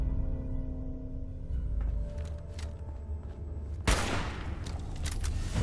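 Gunfire in the Fallout 4 video game: a dense burst of rapid shots rattles over a low rumble, breaking off into a sharp, loud blast that leaves a noisy crackling tail.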